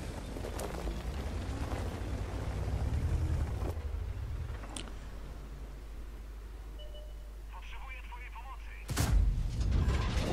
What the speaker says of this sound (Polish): To był decydujący strzał w tej bitwie, podejrzewam, że to nie weszło.